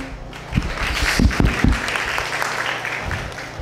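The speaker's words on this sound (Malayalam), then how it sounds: "70 പേർ ആ പാട്ടിന് കൈയടിച്ചാൽ ഈ ശബ്ദമാണോ വരേണ്ടത്?" A classroom group of about 70 people in a Kerala school breaks into applause for a song, a dense, somewhat thin burst of clapping that swells with a few sharper claps and then tapers off, with faint talk underneath.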